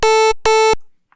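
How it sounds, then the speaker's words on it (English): Harsh, buzzy unfiltered pulse-width-modulated square-wave sub bass from a Serum synth patch, two sustained loud notes of about a third of a second each with a short gap, then silence apart from a faint blip. "which I'm actually using this pulse-width-modulated squarewave sound."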